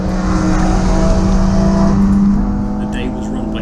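A Honda S2000 drives on a race circuit during a busy track day at Bedford Autodrome, its engine droning loudly and steadily from inside the car with a faint tire hiss.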